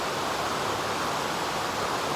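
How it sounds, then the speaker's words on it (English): River water flowing steadily on an October morning, a broad, even rushing wash that stays constant throughout with no voices. "Started off the day with a look at the river."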